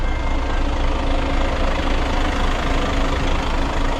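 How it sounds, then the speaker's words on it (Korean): A tour bus engine idles steadily, a continuous low rumble with a faint knocking texture, close and unchanging throughout. "엔진 소리도 좋고"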